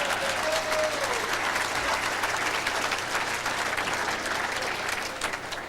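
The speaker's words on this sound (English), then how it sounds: "I think I deserve a round of applause for that." A Hall of Fame induction audience gives a steady, full round of applause from start to finish, close and even, with no talk over it.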